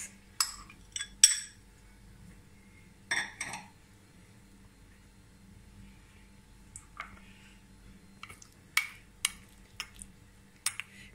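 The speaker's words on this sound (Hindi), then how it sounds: "अब मैं कीमे को मिक्स करूंगी।" Minced chicken keema with onion and spices being mixed in a bowl: scattered clinks of a utensil against the bowl and soft squishes, irregular and close, otherwise quiet.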